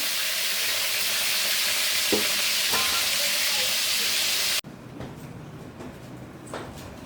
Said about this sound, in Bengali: এখন আমি কোরাল মাছ ভাজবো।